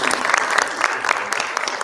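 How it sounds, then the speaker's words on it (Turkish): An audience at an award ceremony in a library hall claps continuously, a dense, loud and steady applause with no break. "Buradan alkışlarımızı kendileri hissettirelim istiyoruz."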